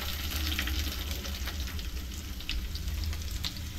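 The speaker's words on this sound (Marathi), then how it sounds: "तेल जास्त टाकलं, आता कांदा टाकून घेते।" Chopped onion and curry leaves frying in plenty of very hot oil in a pan, a loud, constant sizzle with faint crackles and stirring, close by and without speech.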